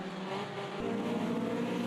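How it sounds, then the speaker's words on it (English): Formula Junior race cars in a racing video game at Monza in 1971, downshifting down the start-finish straight: a steady, loud, buzzing engine drone that steps in pitch partway through as a gear changes, with no talking. "Listen to the cars come down the start-finish straight,"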